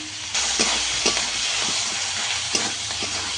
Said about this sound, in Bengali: সম্পূর্ণ মশলা আমি ভালো করে একটু কষিয়ে নেব।